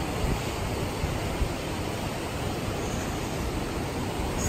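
A waterfall on a mountain hike pours in a steady, dense rush of white noise that fills the whole clip without pause.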